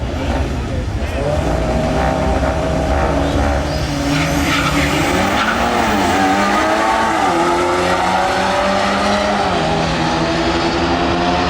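A built Audi S3 races at a drag strip, a loud, roaring engine under hard acceleration with rising and shifting pitch and some tire noise throughout, close to the listener, with voices partly mixed in.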